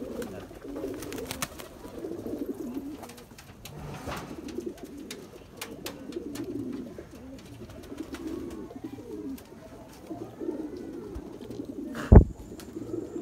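Nagpuri tumbler pigeons coo softly and continuously in low, rolling calls, close and steady, with one brief sharp knock near the end and no talking.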